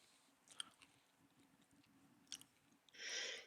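A sneeze bursts out near the end, a short loud noisy blast after a quiet stretch of faint clicks and small mouth sounds.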